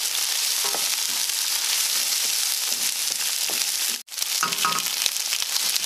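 Onion and chillies frying in oil in a pan for a spicy prawn pasta, a loud steady close sizzle with stirring scrapes, cut by a brief gap before the hiss resumes.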